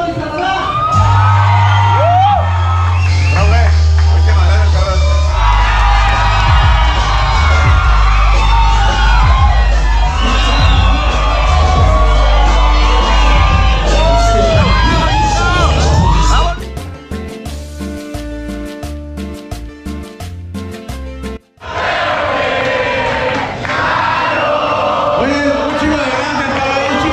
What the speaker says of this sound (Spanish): favor, reciban con un fuerte aplauso a Lalo y Canadá.